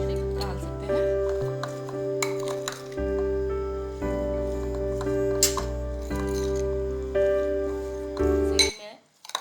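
Salted sandwich filling mixed with a spoon in a bowl, repeated scraping clinks and soft squishy stirring in an irregular rhythm, close and moderately loud, with someone speaking in between.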